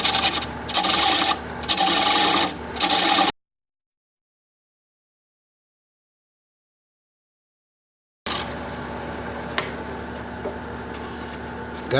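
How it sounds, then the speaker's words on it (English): A wood lathe spins at about 600 RPM while a bowl gouge cuts down the tenon on a wooden bowl. A steady rasping scrape is broken by a stretch of silence, then resumes more evenly. "So I'm going to turn it about 600 RPM and just work away that tenon."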